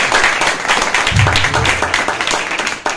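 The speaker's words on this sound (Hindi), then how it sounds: "तो ये जरा जोरदार तालियां लगाएं" Congregation at a Sunday church sermon clapping loudly, individual claps audible in an uneven rhythm, with a brief low voice sound mixed in.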